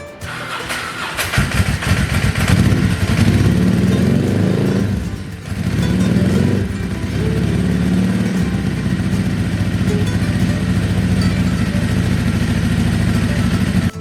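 A cheap Ducati motorcycle, revived after repairs, cranks and catches, then its engine runs loud and close with a steady low rumble, briefly dipping before settling into a continuous idle.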